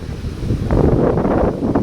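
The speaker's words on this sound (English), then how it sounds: "You can hear the waves crashing against the beach." Waves breaking on Burnham beach under strong gusting wind, a broad rumbling wash with heavy wind buffeting on the microphone, loud and close.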